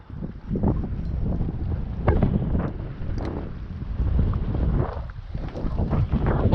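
Wind blows hard while squid fishing alone on a small aluminium tinny boat, making a continuous loud rumbling roar of gusts on the microphone that swells and dips without pause.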